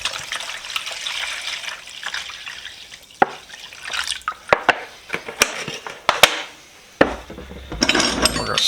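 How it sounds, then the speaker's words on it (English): Used deoxidizer liquid pours over rusty wrenches, making soft splashing and dripping with sharp metallic clinks and taps at irregular intervals, close and fairly quiet. "I'm just going to pour it in."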